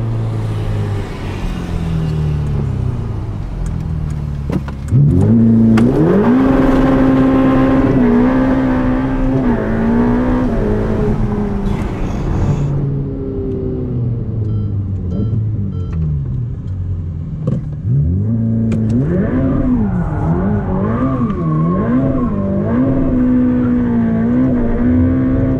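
Ferrari F8 Tributo accelerating hard with traction control off, heard from inside: a loud engine climbs through the revs, drops briefly at gear changes, then surges again in repeated waves.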